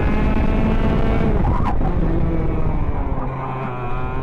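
An Arrow X6.2 or ROK GP go-kart drives around a track, its engine buzzing loud and close with a pitch that rises and falls, including a sharp burst near the middle as it revs and drops.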